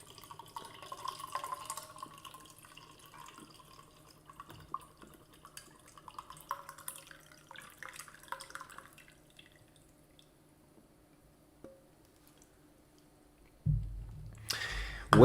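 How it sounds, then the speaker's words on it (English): Coffee trickles and drips as the last of it is poured into a mug, a soft, close, intermittent sound that fades into near silence before a louder burst at the end. "Give me a second here as I pour the last bit of my coffee in my mug."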